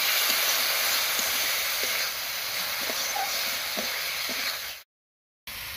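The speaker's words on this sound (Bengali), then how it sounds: "মুসুর ডাল, এবার সব কিছুর সঙ্গে খুব ভালো করে কষিয়ে নেব।" Masoor dal with turmeric and spices sautéing in a pan with papaya, a steady close hiss and sizzle with faint stirring taps, then a brief dropout before the sizzle returns.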